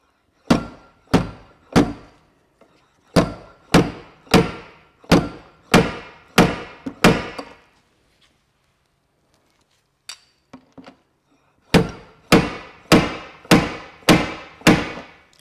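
A slide hammer yanking on a glue dent-puller head stuck to a vehicle body panel: a quick run of about seven sharp, evenly spaced metallic thunks, a pause, then another rapid series of about six.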